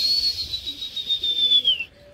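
A pigeon kept by a hobbyist in a loft, heard close with a soft, sustained call drifting slowly downward in pitch for under two seconds before fading out.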